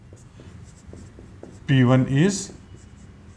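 Pen or marker writing out a math proof by hand, a soft scratchy stroking that runs steadily under a voice speaking briefly in the middle.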